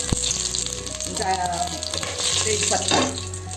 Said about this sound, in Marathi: तेल टाकलं आहे, त्याच्यामध्ये मी अर्धा चमचा हिंग घालते